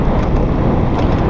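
Strong gusting wind roaring steadily and loudly across the microphone while riding an Emmo Urban S e-scooter through quiet back streets on a hot day, a dense constant buffeting rush.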